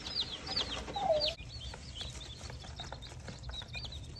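Chicks chirp in quick, high peeps throughout, with a brief louder burst early on and steady faint background rustle.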